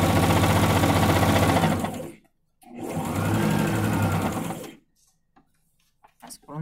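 A sewing machine stitches a patchwork seam in two loud, steady runs of rapid mechanical whirring, separated by a short pause, then stops, leaving brief soft handling noises.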